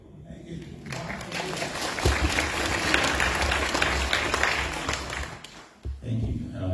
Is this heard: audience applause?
yes